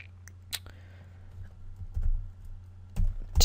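Typing on a computer keyboard while entering code in Visual Studio, with a few scattered key clicks over a steady low hum. The taps are close, light and irregular, with a couple of louder bursts.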